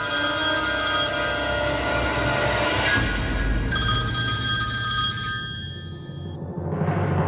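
An old-style telephone rings in a loud, sustained electronic trill that pauses briefly and resumes before cutting off, under a dramatic musical swell.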